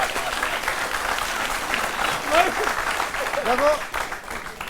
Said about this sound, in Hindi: इतनी धीरे धीरे इतने सारे लोग ताली बजा रहे हैं